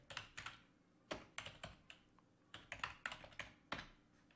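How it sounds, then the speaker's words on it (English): Keys clatter on a computer keyboard as a search is entered, bursts of quick close taps with short pauses between them, quiet and without speech. "I'm going to type in page domination."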